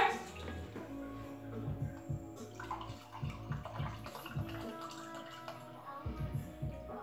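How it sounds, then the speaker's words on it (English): White rum glugs and splashes from a bottle into a cup in a kitchen, a close, irregular pouring sound that comes in several bursts with brief pauses between pours. "I'm gonna pour three cups of white rum."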